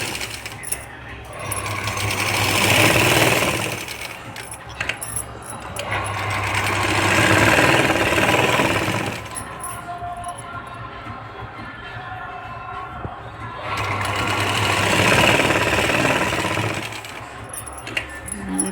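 A sewing machine stitches a puff sleeve in three separate bursts of steady whirring, each several seconds long and close by, with quieter pauses of handling between runs.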